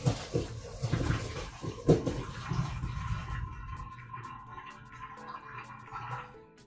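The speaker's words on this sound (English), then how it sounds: "we're going to get ready to strain and mash the potatoes." Water from boiled potatoes being poured off and strained, with a splashing, gushing rush that starts loud and trails into faint trickles and small clatters, heard alone.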